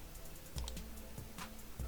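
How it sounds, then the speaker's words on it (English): A few keys, including F12, are pressed on a computer keyboard while Excel shortcuts are used, giving soft, scattered clicks against a steady low background hum with no voices. "You press the F12 on your keyboard."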